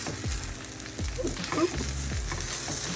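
Beef pieces browning in a hot pan for broth give a steady close sizzle and crackle, with a few scraping stirs or turns of the meat cutting through the constant frying hiss.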